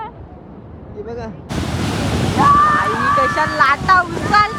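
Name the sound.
sea waves crashing at Somnath beach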